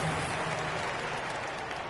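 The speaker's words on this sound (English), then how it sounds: "One more round of applause for your performers." A basketball arena crowd in the video game NBA 2K27 gives a steady wash of applause and cheering, loud and continuous throughout, with no talk on top.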